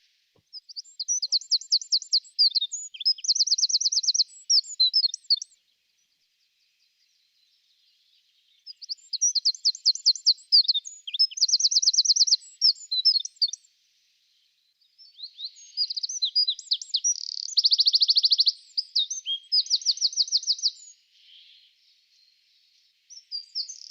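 Wren singing in a woodland dawn chorus: three long, loud, rapid bursts of high trilling song separated by short pauses, close by and alone.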